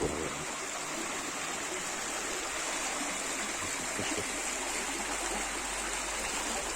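Water rushing steadily along a medieval mill race bypass channel, a broad continuous stream-like wash that stays even and close throughout, with no voices.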